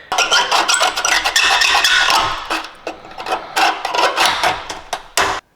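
Short bursts of MIG welding tack a patch piece into a Datsun 520 hood, crackling and buzzing loudly with brief pauses between welds.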